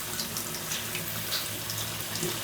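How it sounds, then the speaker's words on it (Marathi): Running tap water while urad dal is washed clean for an idli premix, a steady soft splashing and trickling in a kitchen sink, fairly quiet with no talking. "आता ही डाळ देखील स्वच्छ आपल्याला धुवून घ्यायची."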